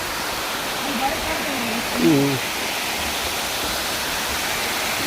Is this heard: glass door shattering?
no